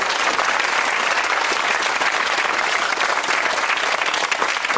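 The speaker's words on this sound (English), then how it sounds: "Big round of applause for Lewis and Sarah Harper." A studio audience on the Countdown quiz show breaks into loud, steady applause that fills the whole stretch without letting up, dense and close with no talk on top.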